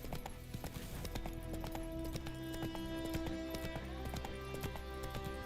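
Roach, a horse in the video game The Witcher 3, gallops with rapid, steady clip-clop hoofbeats over background music.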